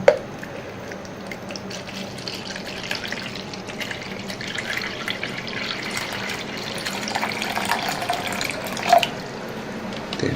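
Rainwater pours into a clean container in a small, uneven trickle, about 300 ml in all, with soft drips and splashes. The sound is close and fairly faint, with no voices.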